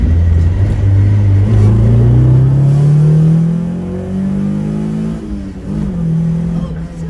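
A Honda Civic engine with a VTEC solenoid issue revs up in a rising, steady climb, loud and close, then eases back and holds a lower idle-like drone.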